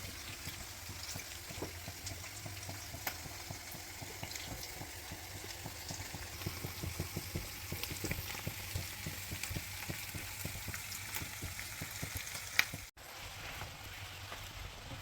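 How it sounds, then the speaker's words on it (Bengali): Chopped onions with garlic and green chilli frying in a pan, a steady soft sizzle with crackle and occasional stirring clicks, fairly quiet and close, no talking. "পেঁয়াজগুলি একটু ভাজার জন্য অপেক্ষা করব"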